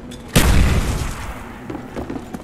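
A grenade bursts in Black Ops 1 Zombies on the Verruckt map: one sudden loud boom with a broad rumbling tail that slowly fades, followed by softer game noises.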